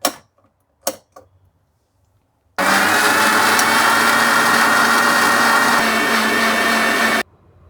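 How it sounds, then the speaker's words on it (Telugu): A mixer grinder blending mango lassi with added water runs loud and steady for about five seconds, then cuts off abruptly, preceded by a few sharp clicks as it is set up. "ఇప్పుడు మిక్సీ వేసుకుందాము."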